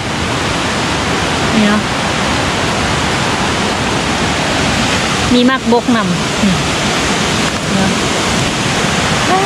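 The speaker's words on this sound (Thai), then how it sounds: "เสียงน้ำตกตาดนะดังขนาดเลย" Forest waterfall in Laos roaring loudly and continuously as a broad, steady rush of falling water close by, while a person speaks briefly over it.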